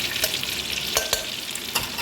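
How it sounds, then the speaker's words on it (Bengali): Whole spices and bay leaf frying with pieces of mango in oil, a dense close sizzle with several quick stirring scrapes and clicks, no voices. "এই যে কাঠ মশলা, তেজপাতা, এবার এগুলো একটু নাড়াচাড়া করে নিতে হবে।"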